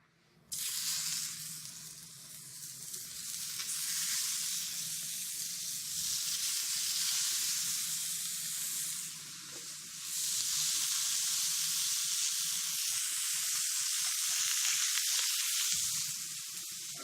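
Raw ground meat frying in a pan on a stovetop, a loud, steady close-up sizzle that swells after it hits the pan and holds with slight surges, with no voices.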